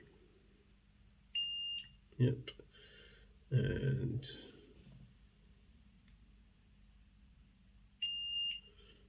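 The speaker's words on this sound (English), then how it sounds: "So I should have a beep between here and here." A multimeter on continuity test beeps across the wheels of a Hornby Class 28XX model locomotive under repair, giving two sharp tones several seconds apart, with a brief spoken word and handling clatter in between.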